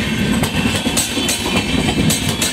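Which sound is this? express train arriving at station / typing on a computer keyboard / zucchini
express train arriving at station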